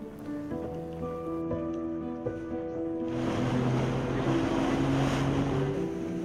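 Arba'in passenger boat crossing the sea from Tawau to Sebatik: a steady low engine drone, then a loud rush of wind and water spray swelling in and continuing to the end.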